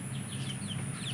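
Domestic chickens cluck softly in a backyard bird collection, a few short calls rising over a steady low background hum, fairly faint and with no talking.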